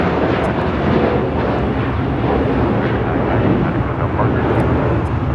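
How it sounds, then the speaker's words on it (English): An American Airlines A321 airliner takes off with a loud, continuous jet roar and deep rumble, with faint talk underneath. "This is American Airlines 990 taking off to Atlanta on an A321"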